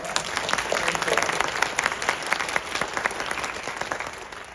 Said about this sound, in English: We, the graduates, would like to give you a round of applause.